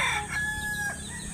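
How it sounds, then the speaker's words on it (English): Several roosters in the Philippines crowing close by, a quick burst of overlapping cock-a-doodle-doo calls with clucking, fairly loud over a low background hum. "It's like rooster heaven over here. Wow, so many roosters."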